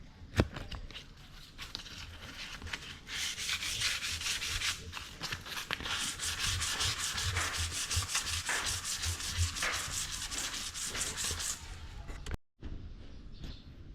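Steady rhythmic scraping of 400-grit sandpaper rubbing against stone, continuous back-and-forth strokes for several seconds, close up, ending abruptly.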